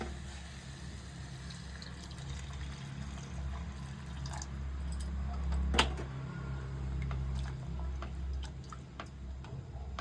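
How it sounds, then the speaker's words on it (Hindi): Hot water poured into a cooking pan of almond paste over a low flame while making chicken mughlai, a soft continuous pouring rush over a low steady kitchen hum, fairly faint, with one brief clink midway. "इसमें हम गर्म पानी ऐड कर लेंगे।"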